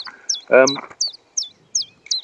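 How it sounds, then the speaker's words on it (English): A chiffchaff sings a string of short, high, evenly spaced notes, about five in quick succession, and a brief voice cuts in near the start. "it's an onomatopoeia, so basically it sings its name. Chiff chaff, chiff chaff"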